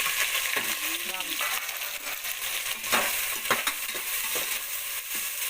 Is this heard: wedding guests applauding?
no